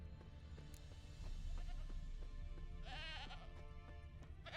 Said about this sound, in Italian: Sento una capra.